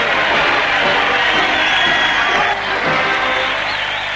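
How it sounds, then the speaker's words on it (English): A large crowd cheers and shouts continuously, a dense wash of voices and whoops filling the space, loud and sustained throughout. "Among the cheering crowd"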